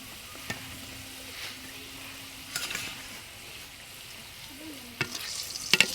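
Jackfruit puri frying in hot oil in a pan: a steady, faint sizzling hiss with occasional sharp clicks and stirring sounds.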